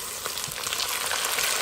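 Tomatoes frying in a pan, a steady close sizzle with faint crackles and stirring, no voices.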